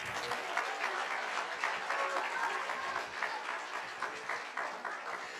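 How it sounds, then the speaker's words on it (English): Audience applause at a film discussion event, a steady wash of clapping lasting several seconds at moderate, somewhat distant level, with no speech over it. "Can you give those wonderful ladies a hand clap?"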